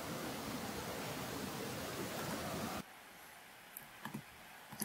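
A storm sound effect in the Bakin game engine, slowed and lowered, gives a softer, more distant rushing roar. It cuts off abruptly partway through, leaving near-silence with a few faint clicks and no speech.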